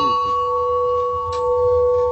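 A sustained bell-like tone from old clocks chiming rings steadily, with a second tone entering partway through; a low rumble sits underneath.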